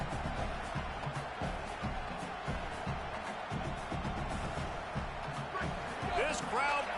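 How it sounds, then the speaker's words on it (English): A dense crowd at an LSU football game roars steadily throughout, with scattered whistles and shouts rising near the end. "This crowd bringing the energy and noise early."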